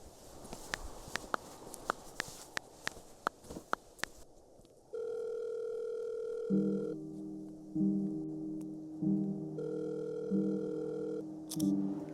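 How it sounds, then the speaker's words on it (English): A telephone dial tone hums steadily after a series of footsteps, the flat electronic tone continuing alone for several seconds as music creeps in beneath it. "Just dial and find out."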